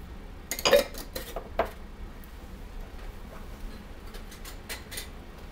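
Clean lids placed loosely onto glass jars filled with berry fruit for breakfast, giving a few close clinks and metallic taps, louder at first then softer light ticks spread over the rest.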